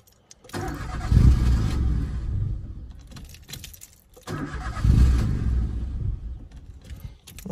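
A Citroen C1's starter motor cranks the engine in two long bursts of roughly two and a half seconds each, loud and close, with a short pause between them and no talking.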